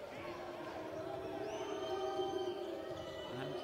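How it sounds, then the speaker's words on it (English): Arena crowd noise at a EuroLeague Women basketball game between Fenerbahce Alagoz Holding and Sopron Basket, a steady low roar of spectators with some whistle-like tones, faint and distant. "Crowd continue to bring the noise"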